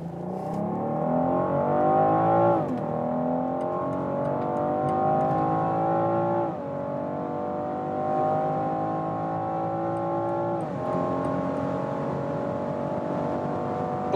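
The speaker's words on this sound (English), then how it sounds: "And I really love that inline six-cylinder sound." BMW M440i inline six-cylinder engine accelerating hard from 40 km/h, revs climbing in long rising sweeps broken by three quick upshifts, loud and close with no talking over it.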